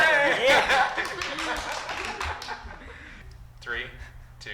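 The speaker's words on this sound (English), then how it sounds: "Applause before the start." A small audience at a business pitch competition claps in scattered bursts, with laughter and chuckles mixed in, and the applause thins out toward the end.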